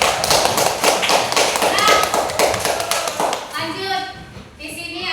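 A classroom group claps together in a dense burst of rapid applause that fades after a few seconds, while voices speak over and after it.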